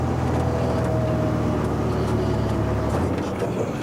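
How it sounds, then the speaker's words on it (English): A 1981 Volvo F12 truck engine labors loudly and steadily up a steep climb, a close, heavy diesel drone that dips and shifts near the end as the gears change. "We'll have to do a bit of gear changing here by the looks of it"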